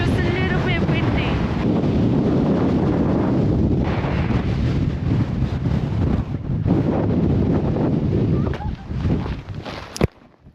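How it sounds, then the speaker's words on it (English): Strong wind buffets the microphone outdoors in West Iceland, a loud continuous roar and rumble that surges and eases, with voices faintly audible beneath it and a sharp knock near the end. "It's just a bit windy, just a little bit windy."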